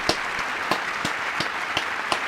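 Rhythmic clapping in a congressional chamber during a presidential speech, sharp evenly spaced claps about three per second, steady and fairly close, with no talking.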